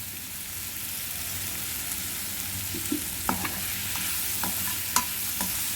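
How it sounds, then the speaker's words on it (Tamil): Carrot, potato, capsicum, tomato, onion, coriander and cashews sauté together in a pan as a steady soft sizzle, with a few sharp spatula knocks and scrapes toward the end and no speech. "Carrot, potato, capsicum, tomato, onion, coriander and cashews. சரியா? இது கொஞ்ச நேரம் நல்லா வதங்கட்டும்."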